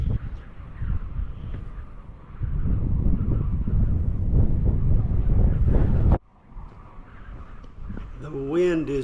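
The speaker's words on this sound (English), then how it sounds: "The wind is really blowing out here." Strong wind gusting outdoors at Capitol Reef National Park in Utah, a loud roaring buffet on the microphone that swells and drops abruptly, with a person speaking over it at the end.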